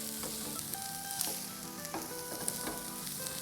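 Crushed chilies, salt and black pepper are stirred into a hot frying pan for potato and egg cutlets, giving a soft, steady sizzle with light scraping strokes from the stirring, close by and with no talking.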